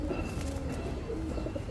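Pigeons coo softly and steadily at a loft of old-breed Giribaz high-flyer pigeons, including ringed and green-necked birds, their low murmuring calls continuous against a busy background.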